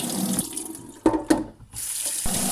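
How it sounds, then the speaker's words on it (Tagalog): Water from a tap runs and splashes as rice is rinsed in a bowl for a first washing, steady flow broken by a few brief pauses and sloshes, close by and without voices. "Unang tubig natin yan, nilinisan natin ng maayos ang ating bigas guys."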